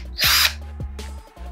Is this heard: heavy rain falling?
no